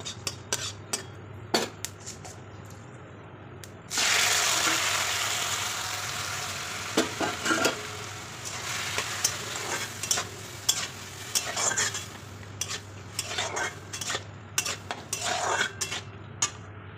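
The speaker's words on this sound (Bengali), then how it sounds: "ভেজে নেওয়া হয়ে গেলে আমি আনারসটি দিয়ে দেবো। তারপরে হালকা করে নেড়ে নাড়তে থাকবো।" Pineapple for a chutney drops into a wok of oil tempered with panch phoron, setting off a sudden loud sizzle, then keeps frying under scraping and clinking spatula strokes against the metal.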